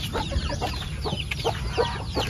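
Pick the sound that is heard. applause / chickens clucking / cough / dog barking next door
chickens clucking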